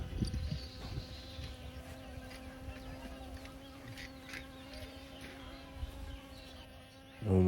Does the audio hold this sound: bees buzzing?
yes